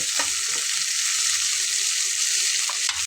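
Potatoes fry in hot oil in a pan for a Bengali fish and masoor dal dish, giving a steady, loud, close sizzle that holds evenly for about three seconds before cutting off.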